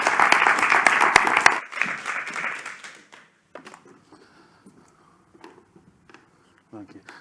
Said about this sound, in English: So let's give a round of applause to Marcel Zeelenberg.